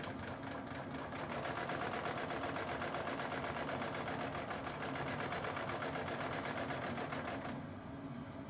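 A serger stitches out thread with a rapid, even mechanical chatter, running steadily and close for several seconds before slowing near the end.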